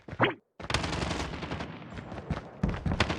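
Rapid automatic gunfire in Call of Duty rattles loud and close in a sustained burst after a brief pause, with no talk over it.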